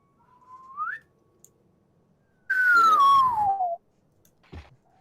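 A person whistles in imitation of a dog's sad whistle, voicing a tracking dog that has lost the trail: a short rising note, then a louder falling whistle lasting about a second, followed by a faint thud.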